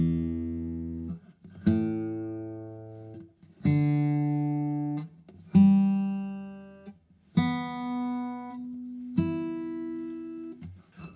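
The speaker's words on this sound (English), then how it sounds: "I'm just going to go through my strings quickly so you can check." Six guitar strings plucked one at a time for tuning, each note ringing clearly for about two seconds before the next, alone with no talk.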